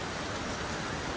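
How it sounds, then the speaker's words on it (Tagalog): Steady rain falls outdoors, a dense even hiss of drops on surfaces, heard alone for a brief moment. "look, it's raining again."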